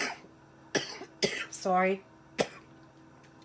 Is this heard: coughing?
yes